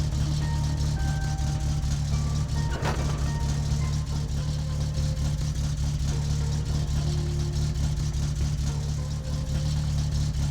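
A car in the video game My Summer Car idles loudly with a broken exhaust, its engine giving a steady, heavy, droning rumble throughout, with a brief click partway through.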